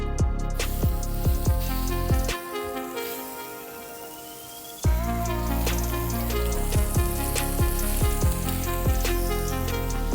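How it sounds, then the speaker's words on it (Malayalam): Squid rings fry in coconut oil on a hot tawa for a Kerala-style tawa grill, giving a loud, steady sizzle with scattered sharp crackles and pops, dipping briefly quieter midway before returning at full strength. "അപ്പോൾ ഇതിലേക്ക് സ്ക്വിഡ് ആഡ് ചെയ്യാം."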